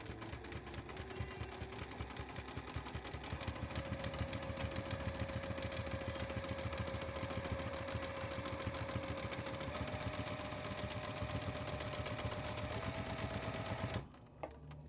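A sewing machine stitching a quilt during free-motion machine quilting, running in a steady rapid mechanical patter with a faint whine, close and continuous before stopping near the end.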